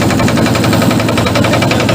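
A boat engine chugs loud and close with a fast, rough knocking rhythm as a boat ride sets off along the Varanasi ghats.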